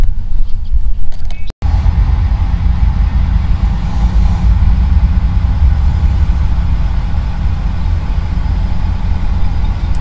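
A locomotive engine idles nearby with a loud, steady diesel rumble that holds throughout, broken only by a very brief dropout early on. No one speaks.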